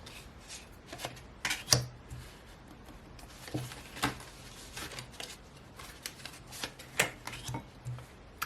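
Tarot cards from a Tarot of Mystical Moments deck are pulled from different spots, making crisp close slides, flicks and soft taps in irregular bursts with quiet pauses between and no talking.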